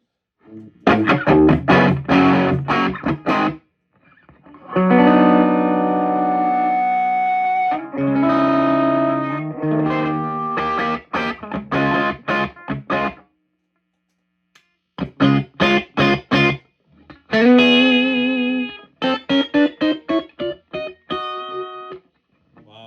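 A heavily distorted electric guitar plays loud chords and choppy riffs through a Fender Champ II amp with a Greenback speaker, with short bursts, sustained notes and brief silences between phrases.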